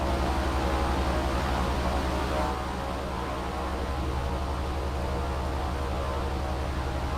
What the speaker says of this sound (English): all I heard was a loud propeller plane